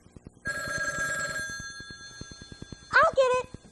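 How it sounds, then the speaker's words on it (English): A telephone bell rings in a burst of bright trilling, pauses, then rings again briefly, with a soft ticking pulse running underneath. "it isn't polite to ignore a ringing telephone either"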